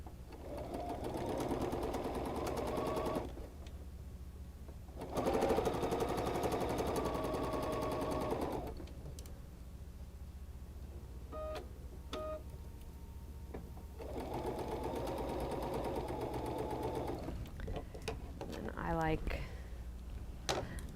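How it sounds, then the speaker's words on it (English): A sewing machine stitches pieces of a quilt block together in three loud, steady runs with pauses between them; during the gaps there are small clicks and handling noises while the fabric is repositioned. "I'm going to put them right sides together. And I'm going to sew that together."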